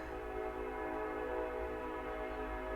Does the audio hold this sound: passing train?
yes